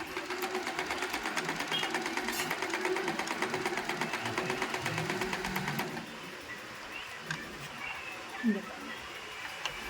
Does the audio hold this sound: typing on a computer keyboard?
no